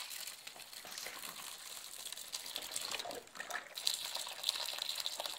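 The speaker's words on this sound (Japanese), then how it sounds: "ポットから、えー、お湯を入れます。" Lukewarm water poured from an electric pot into a cup of instant stamina ramen, a continuous close hiss and trickle of liquid that holds steady throughout with no talking over it.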